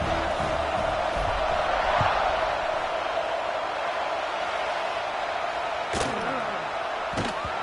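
American football crowd at a NECF versus St Valentine game, a steady distant roar of cheering fans before the kickoff, broken by a couple of sharp slam-like thuds.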